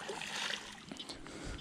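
A small bass is let go back into the water at a Santa Rosa Ranch dam, making a short close splash and slosh over steady outdoor water noise.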